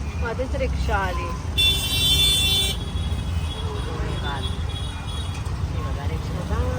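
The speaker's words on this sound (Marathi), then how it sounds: "बघा रिक्षा जा पुढे पुढे" Auto rickshaw passing along a busy town street near a station, its engine rumble mixed with heavy traffic noise and repeated horn toots, while people talk over the scene.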